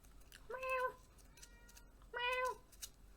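A cat meows twice nearby, two drawn-out, clear calls separated by a short pause in a quiet room.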